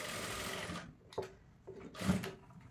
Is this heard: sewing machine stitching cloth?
yes